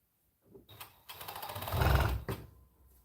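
A sewing machine stitches through four or five layers of fabric and elastic in a short close burst of rapid mechanical whirring that builds and then stops, with clicks at the start and end and no speech.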